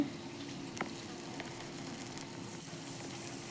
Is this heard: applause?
no